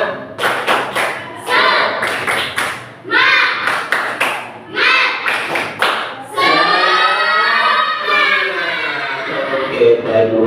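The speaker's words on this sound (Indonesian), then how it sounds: "Tepuk tangan untuk kalian semua" Primary school pupils standing in a classroom perform a rhythmic spirit clap, loud bursts of clapping and stamping in patterned groups, followed by a sustained cheer from the children.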